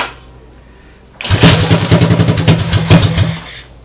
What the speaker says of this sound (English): obviously you guys could see that it ran